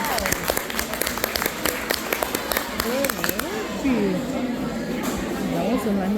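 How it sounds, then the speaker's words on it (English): Scattered clapping from a small group at a school award ceremony, with sharp individual claps over chatter and raised voices, thinning out partway as talking takes over. "Let's give a round of applause, please."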